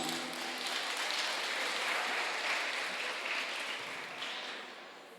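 A church congregation applauds during a sermon at a Carnaval com Cristo gathering, a soft, even wash of many hands clapping that carries on steadily and thins slightly at the end.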